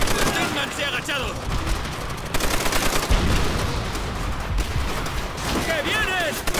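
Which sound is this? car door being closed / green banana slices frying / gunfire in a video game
gunfire in a video game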